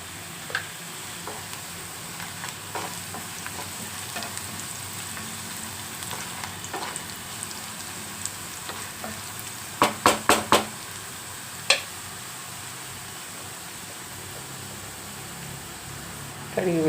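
Radish leaves frying in a pan give a steady sizzle, broken by a few sharp clinks and scrapes of stirring near the end.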